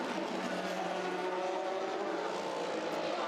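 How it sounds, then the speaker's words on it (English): A Toyota race car crossing the finish line at the 24 Hours of Le Mans makes a continuous, steady engine drone amid ambient circuit noise, fairly distant and without any speech. "Kaz Nakajima crosses the line in very different order than a couple of years ago"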